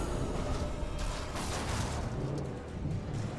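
A deep, rumbling explosion roars continuously in the video game Alan Wake, a broad thick boom filling the whole moment at steady loudness with no talk over it.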